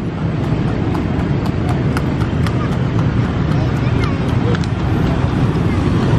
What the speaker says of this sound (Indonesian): Ada Delman lagi narik.